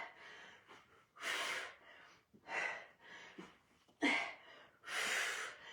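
Forceful breaths during a full-body workout come in a series of rhythmic bursts, each a loud, close, airy rush of air, with quieter gaps between them.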